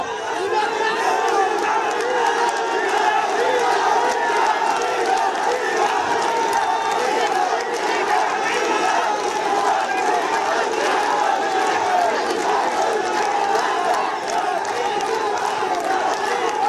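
A large crowd shouts slogans demanding Cumilla division, making a dense, continuous roar of many voices at steady, loud volume throughout.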